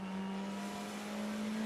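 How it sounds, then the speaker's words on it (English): A Row Racing BMW race car at the 2017 ADAC Westfalenfahrt VLN endurance race holds a steady, droning engine note, heard fairly faint and distant throughout. "Completely different engine note, of course."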